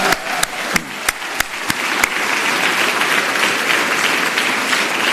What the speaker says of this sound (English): round of applause for all the help